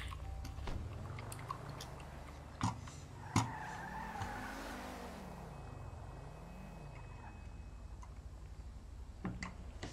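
Car driving in GTA 5 rolls along as a low engine drone, with a skidding tire whine sweeping up and down midway and a few sharp clicks and thumps scattered throughout.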